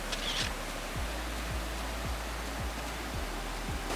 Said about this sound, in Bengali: এই যে ঝর্ণার আওয়াজটা শুনতে পেয়ে,